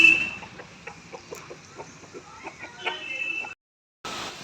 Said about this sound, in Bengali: এগুলো সব আমার ঠাম্মার মুরগি পোষে, সব ঠাম্মার মুরগি